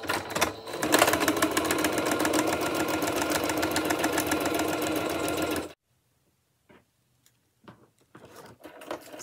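A sewing machine runs steadily, stitching ribbon trim onto socks, a loud continuous mechanical whir for about five and a half seconds before stopping abruptly, leaving faint handling clicks.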